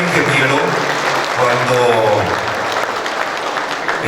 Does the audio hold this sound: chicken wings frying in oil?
no